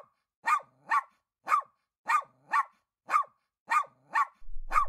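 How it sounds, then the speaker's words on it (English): A dog barks repeatedly, about nine sharp yips in a steady, evenly spaced rhythm, clear and close against a quiet background. "Let's follow the barks."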